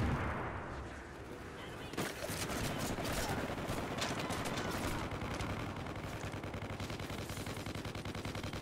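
Heavy gunfire with bullets fired in rapid, continuous volleys of dense automatic shots that crackle steadily for several seconds, with voices talking faintly underneath.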